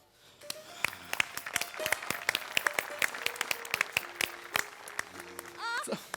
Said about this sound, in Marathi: म्हणजे एकदा जोरदार टाळ्या.